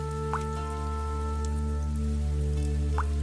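A cartoon sound effect of rain on a leaky roof in a poor laborer's house: a steady wet hiss over a constant tonal hum, with two bright drip plinks, one near the start and one near the end.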